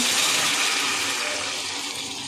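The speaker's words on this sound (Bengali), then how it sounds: "এবার জল দিয়ে দেব, গরম জল দেব।" Hot water poured steadily into a pan of spiced tilapia curry, a loud, continuous splashing gush that barely changes over a couple of seconds, close up and with no talking.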